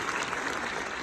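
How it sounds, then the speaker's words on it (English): A brief burst of dense, steady applause from an audience at a Comic Con panel in Liverpool. "Applause for Laura."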